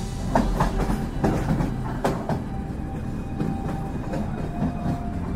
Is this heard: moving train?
yes